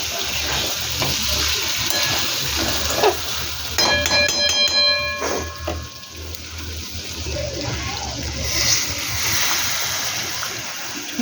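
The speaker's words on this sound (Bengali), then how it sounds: "জল ঢেলে দিলাম, ঢাকা দেবো, কষা কষা করব।" Water poured into sizzling chicken kosha masala in a pan, with a rush of splashing and bubbling over ongoing frying and stirring, plus a brief metallic ring partway through, close and fairly loud.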